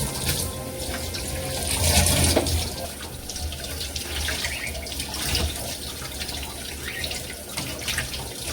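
Tap water runs steadily into a sink while pieces of rohu fish belly are rinsed one by one, a continuous splashing hiss with small surges and drips, no talk.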